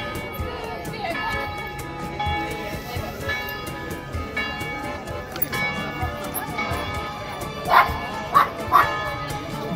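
A dog barks in Venice: several sharp, close yips near the end, over running chatter and movement, with people talking throughout.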